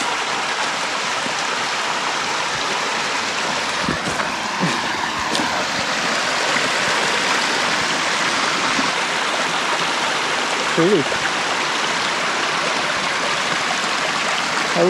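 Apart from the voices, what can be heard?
spring water flowing in the wilderness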